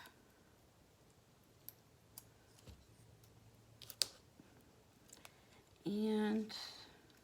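Scissors snip through a piece of card in a quiet room, with a few faint isolated clicks followed by a louder, sustained cutting burst near the end.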